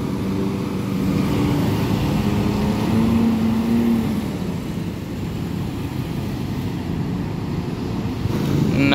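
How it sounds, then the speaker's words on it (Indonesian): A new Hino RM280 Euro 4 bus with an SR3 body, run by Jaya Utama Indo, rolls into Purabaya bus terminal. A steady diesel rumble builds under broad wind-like noise, with a brief hum partway through and no speech. "ini ada masuk armada terbaru dari Jaya Utama Indo pakai bodi SR3 Hino"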